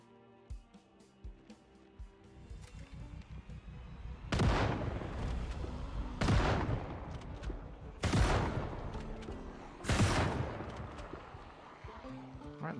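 Gunfire from the video game Project Zomboid, four loud separate shots spaced about two seconds apart, each with a booming tail, over a quiet game background.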